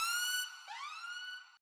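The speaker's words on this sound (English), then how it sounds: "And this siren, which is pitched to the root note of the track." Synthesized siren in a tech house track, tuned to the song's root note, sounds alone as a clear, loud tone that holds, dips briefly and then sweeps back up before cutting off.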